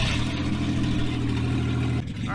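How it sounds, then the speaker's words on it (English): A Ford Aerostar van's engine idles steadily on its own after sitting for 15 years, a continuous low rumble that holds even throughout, with a brief dip near the end. "it is idling on its own now"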